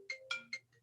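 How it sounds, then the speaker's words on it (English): A phone ringtone chirps from an incoming call during a county charter review commission meeting, three bright rhythmic tone bursts followed by a fainter fourth, heard close and alone. "I had a phone call come in."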